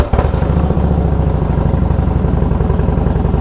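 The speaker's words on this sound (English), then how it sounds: "this thing has Python exhaust, so it sounds really, really amazing" Harley-Davidson Softail Custom motorcycle with Python exhaust idling close by, a deep, loud, loping rumble with a steady uneven throb throughout and no talking.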